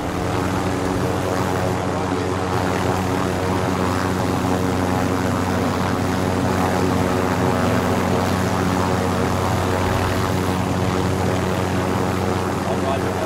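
A helicopter flies in Modern Warfare, a steady, dense rotor and engine roar that holds constant and fairly loud throughout, with faint voices beneath it.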